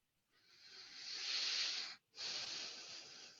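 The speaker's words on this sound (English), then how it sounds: "I heard deep breathing, but no answer" A deep, breathy exhale runs for about two seconds, pauses briefly, then resumes as a second long breath. It is faint, airy and close, with no talking.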